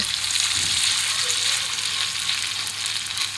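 Small portions of a gram flour and flattened rice snack fry in hot oil, producing a dense, continuous close-up sizzle throughout.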